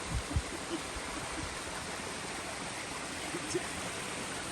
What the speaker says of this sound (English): Probably one of the biggest streams we've had for a few hundred miles.